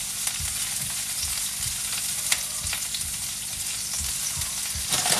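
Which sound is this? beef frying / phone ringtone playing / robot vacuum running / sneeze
beef frying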